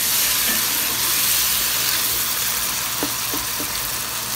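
Softened tomatoes fry in a pan for an aloo matar tahiri, a steady close sizzle and bubbling throughout with a few light stirring clicks.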